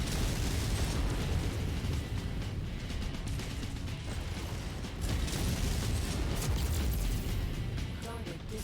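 Battlemech weapons fire and explosions rumble through a MechWarrior 5: Mercenaries fight, forming a dense, continuous roar of booms and mechanical crackle at moderate loudness.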